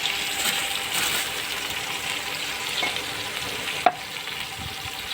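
Steady sizzling of okra frying in a pan with soft scraping and stirring sounds, plus one sharp clink near the end.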